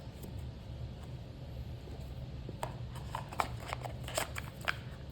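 Tarot cards are shuffled with soft, rapid riffling flicks in short bursts over a low, steady background hum.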